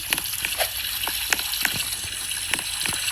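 Water running from a bathroom tap while hands are washed, a continuous close splashing wash with small intermittent splatters and drips over three seconds.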